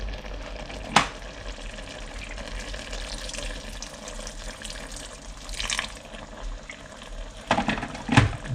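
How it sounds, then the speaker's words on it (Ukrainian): Water is poured into rice cooking for plov, with a sharp splash near the start, a steady liquid rush and gurgle throughout, and further bursts of pouring and bubbling toward the end. "я, мабуть, що додавлю ще трошки водички."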